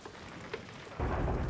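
A rainstorm with thunder in the pirate video game Sea of Thieves: steady rain hiss, then a heavy, loud rumble of thunder swelling in at the midpoint and rolling on to the end.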